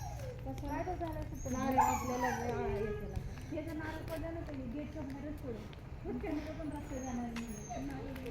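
A dog whimpers and whines in drawn-out, wavering cries, close by, mixed in with people talking in the background.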